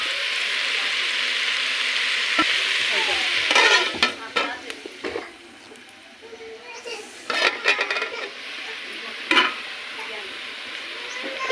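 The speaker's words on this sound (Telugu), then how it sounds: "అడుగు వంటకుంటా అప్పుడప్పుడు దీన్ని కలుపుకోవాలి" Country chicken curry bubbling and sizzling in a pot over a wood fire while a spoon stirs and scrapes the bottom in bursts of clanks and scrapes, close and under a steady simmering hiss.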